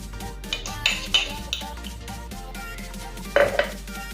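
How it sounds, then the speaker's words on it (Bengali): Spoon scraping and clinking against a pot while powdered milk is stirred into warm milk for Bengali payesh, soft intermittent taps and clinks at close range. "ভালোভাবে দুধের সাথে মিশিয়ে নেব।"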